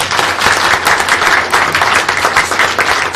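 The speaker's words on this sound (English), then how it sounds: "Let's give them a round of applause for that" Sustained applause from an audience at a school board meeting honoring students, dense steady clapping filling the room for a few seconds with no speech over it.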